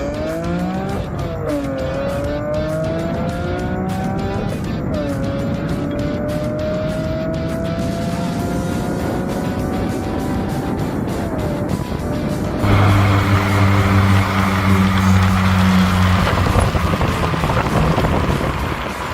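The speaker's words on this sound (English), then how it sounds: "All the drivers who are participating in this particular run are ready and have got their cars lined up" Race cars driving in a run, loud and close, engines rising and falling in pitch as they accelerate and shift, with tire noise and a steady heavy drone building toward the end, no talk.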